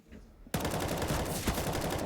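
Counter-Strike gunshots on the map Vertigo in a professional match: after a quiet lead-in, a sudden loud stream of rapid automatic fire rattles on continuously, close and dense, with no speech over it.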